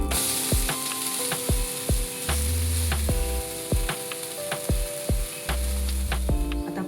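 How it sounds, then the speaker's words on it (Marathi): Jowar flour dhirde, a savoury pancake, sizzles steadily on a hot pan after being flipped, a constant close frying hiss broken by repeated sharp clicks and scrapes of a spatula, with no talking. "दोन्ही बाजूनी आपल्याला खमंग असं धिरडं भाजून घ्यायचं आहे."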